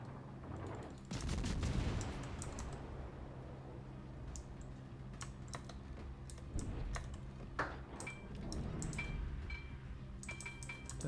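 Naval guns firing in World of Warships, heavy booms and rolling blasts mixed with sharp clicking transients, continuous mid-level battle noise with several louder volleys spread through.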